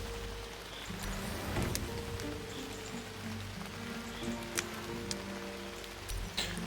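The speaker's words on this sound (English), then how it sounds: "it started to rain, so that was kind of fortunate" Rain falls steadily in the farming survival game Retreat to Enen, a soft constant patter with scattered sharper drop ticks, faint and even throughout.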